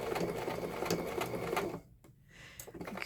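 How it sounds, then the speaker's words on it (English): A sewing machine runs steady straight stitches through a paper birthday card made from scraps. Its rapid, even whirring is close and moderately quiet, then it pauses briefly near the end and starts up again. "I think I'm going to straight stitch it."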